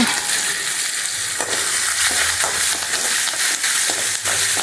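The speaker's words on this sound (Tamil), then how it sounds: "கொஞ்சம் கருவேப்பிலை போட்டு வதக்கிட்டு மணத்தக்காளி காயை போட்டுக்கலாங்க" Curry leaves and manathakkali berries fry in hot oil for a Tamil kara kuzhambu, giving a loud, steady sizzle with occasional stirring scrapes, close up and without talk.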